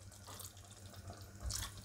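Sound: water poured into a pot of cauliflower curry

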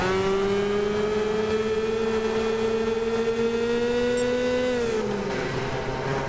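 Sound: go-kart engine revving in Gran Turismo 6 video game

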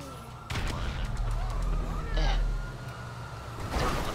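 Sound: Semtex explosives thrown during a police chase in GTA 5 (video game)

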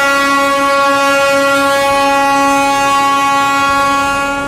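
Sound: Darjeeling narrow-gauge toy train

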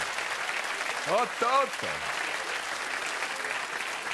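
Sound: crowd applauding a good football play

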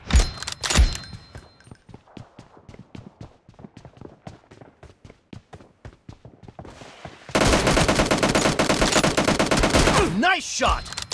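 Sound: gunfire

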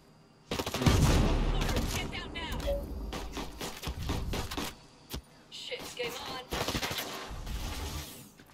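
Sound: gunfire from a ranged gun in video game Ghost Recon Breakpoint

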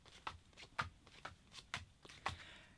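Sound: shuffling a deck of cards

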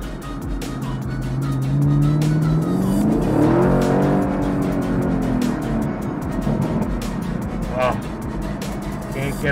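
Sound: Chevrolet Camaro SS car driving

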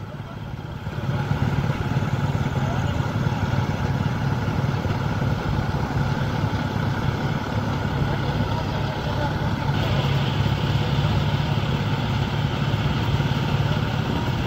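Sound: John Deere 5105 4x4 tractor engine running

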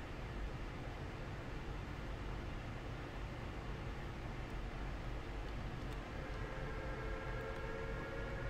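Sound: train driving and braking in Train Sim World video game

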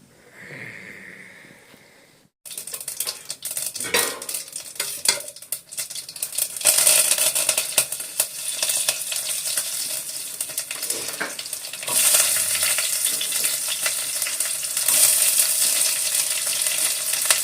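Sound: stirring and frying sambar in a pan

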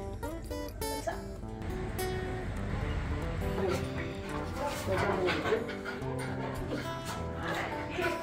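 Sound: dog whimpering and yipping

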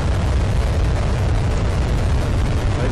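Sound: United Launch Alliance Delta IV Heavy rocket liftoff

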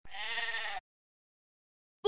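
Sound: sheep bleating

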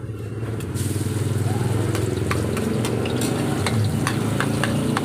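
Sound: garlic frying in oil

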